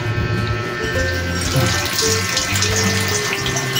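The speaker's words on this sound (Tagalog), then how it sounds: "Dito pupunta yung tubig." Water running from a tap into a drain during plumbing testing, a steady close rushing flow with a faint hum beneath, continuous and without talk.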